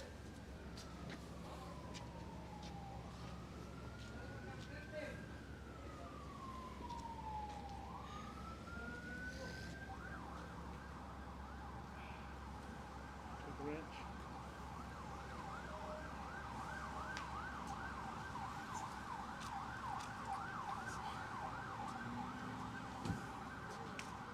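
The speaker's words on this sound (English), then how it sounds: "another ambulance probably to the Civic Center" Ambulance siren passing on a street in El Paso, Texas, with rising and falling wails that shift into a rapid continuous yelp. It sounds moderately distant and faint, over steady traffic noise.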